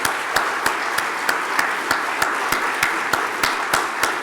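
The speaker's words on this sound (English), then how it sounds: "Please stand up and applaud President Mbeki, the hotel, and of course, all of you." An audience at a conference on multilateralism and African reform gives sustained applause, a dense wash of clapping with a few louder regular claps standing out near the microphone.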